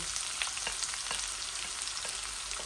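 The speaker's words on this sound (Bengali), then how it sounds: "তেলগুলা গরম আছে। আমি আজকে রেড অনিয়ন দিয়ে রান্না করতেছি।" Red onion frying in hot oil, a dense, loud, continuous crackling sizzle with no voices.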